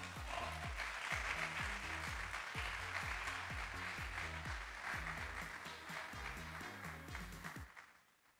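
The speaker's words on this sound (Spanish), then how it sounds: "Un aplauso, por favor." Applause from the audience at a gala awards ceremony fills the hall, steady and dense over rhythmic background music, then fades out near the end.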